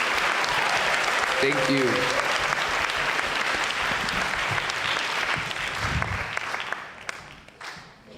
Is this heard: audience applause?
yes